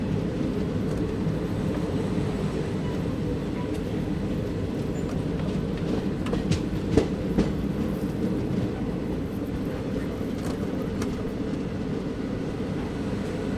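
Pinakini SF Express rolls into Ongole railway station, a steady low rumble heard from inside the carriage, continuous and fairly loud, with a few faint clicks and knocks and no talking.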